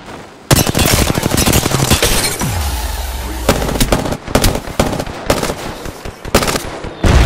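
Loud automatic gunfire in a video game erupts in rapid bursts and sustained volleys, with a deep rumbling boom in the middle, close and dominating, with no speech.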